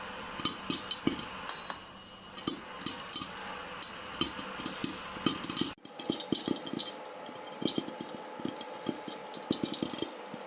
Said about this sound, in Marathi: थोडं थोडं मधून अधून पॅन पण हलवत राहायचे जेणेकरून खाली लाया लागणार नाहीत